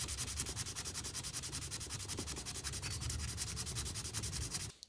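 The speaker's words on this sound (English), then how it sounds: "I'm going to start with 600 grit sandpaper," Wet 600-grit sandpaper rubs over a bare aluminium B18C valve cover from a DC2 Integra Type-R in quick, even back-and-forth strokes, a soft rhythmic scratching that stays close and continuous with no talking.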